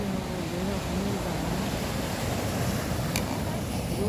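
Winter sea waves break against the shore in a steady, close wash of surf, with wind buffeting the microphone throughout.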